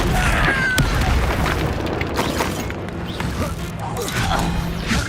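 Spell attack effects in the video game Hogwarts Legacy sound as booming, crashing magical blasts and crackles that stack into a dense, loud barrage, with voices shouting over them.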